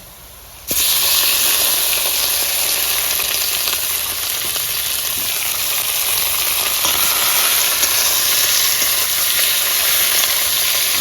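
A loud, steady sizzle bursts in as chicken hits hot oil over lightly browned frying ingredients, crackling and hissing continuously without letting up.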